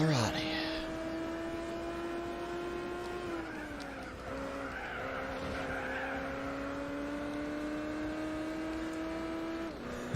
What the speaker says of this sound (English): Get that engine revved up